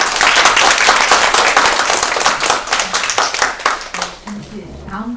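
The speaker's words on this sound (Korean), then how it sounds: "선생님께 큰 박수 부탁드립니다." An audience at a philosophy lecture claps for the lecturer, a dense burst of close hand claps that thins out and fades toward the end, with a voice speaking near the close.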